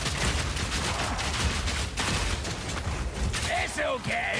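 Stun grenades and gunfire go off in Path of Exile 2, a dense burst of overlapping blasts and rattling shots that fills the whole moment. Synthetic whooshing effects rise near the end, and a voice speaks over the action.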